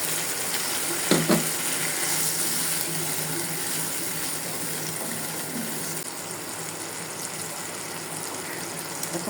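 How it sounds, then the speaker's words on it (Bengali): Water is poured into a pan of spices fried with garlic paste and ginger paste for an arum-root and hilsa-head curry, giving a brief splash and then a continuous sizzling hiss. "মশলাগুলো ভাজা হয়ে গেছে। এখন একটু পানি দিয়ে দেবো।"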